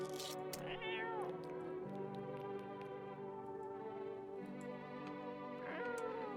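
A cat in a video game meows repeatedly, with drawn-out rising and falling cries over a steady droning background. It is fairly close, and there is no talk.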